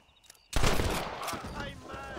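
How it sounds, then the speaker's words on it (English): A sudden burst of gunfire in Red Dead Redemption, a loud crack followed by a ringing, decaying tail, with faint game sounds before it. "I shot him in the foot"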